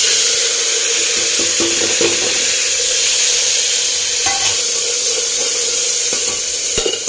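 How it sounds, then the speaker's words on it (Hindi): Cumin seeds sizzle in hot oil in a pressure cooker, a loud, continuous, close-up hiss with a few faint clinks and stirring sounds and no talking. "तो मैंने ये कुकर रखा हुआ है, और इसमें भी मैंने जीरा डाल दिया है।"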